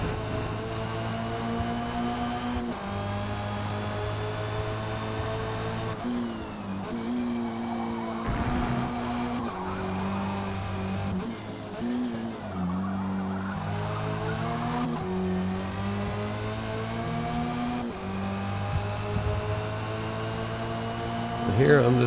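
Forza racing game touring-class race car on new tires, engine droning with stepped gear shifts and bursts of tire squeal as it slides through a corner, steady and loud throughout.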